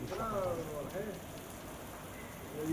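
Light rain patters steadily on surfaces in Mulund, Mumbai, a continuous wash of noise with a faint voice or tone drifting through.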